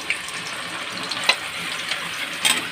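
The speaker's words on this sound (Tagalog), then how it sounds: "First, we will fry our hot dogs." Hot dogs frying in hot oil, a soft crackling sizzle with a few sharper pops and spits, close and steady with no talking.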